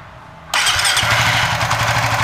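A bored-up, fuel-injected Suzuki FU 150 motorcycle engine fires abruptly after a quiet moment and settles into a loud, steady idle close by.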